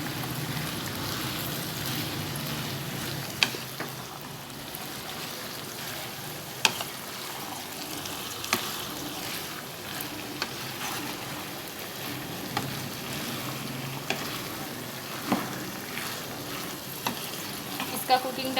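Spiced masala frying in a pan with boiled chickpeas and spinach, a steady close sizzle broken by intermittent scraping clicks of a spoon stirring, continuous with no voices.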